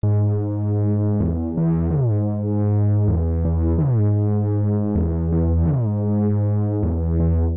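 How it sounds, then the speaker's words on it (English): Reese bass synth patch built in Serum, with resonant filter, drive and distortion, plays sustained detuned low notes that shift pitch every second or so, a thick gritty tone heard alone without talk. "So this is how the Reese Bass sounds like."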